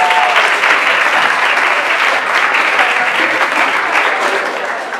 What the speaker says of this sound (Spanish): Un aplauso para Mayerlin, por favor.